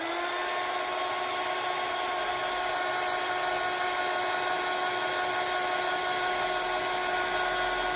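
A hot-air drying tool blows over wet stamping ink on stamping foam, giving a steady, unbroken mechanical whine with a constant pitch and a rushing airflow hiss, close and loud throughout.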